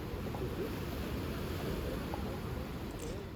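Atlantic Ocean waves wash against a rocky coast at Puerto de la Cruz, Tenerife, in a continuous, fairly loud broadband rush mixed with wind.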